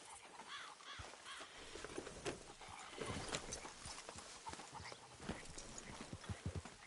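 Hooves clip-clop in a steady, moderately close rhythm over a soft ambient background in Red Dead Redemption 2, with scattered bird caws faintly in the distance.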